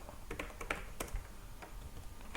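Keys clatter on a computer keyboard as a database query is typed, in an uneven run of close, crisp keystrokes with short pauses and no voices.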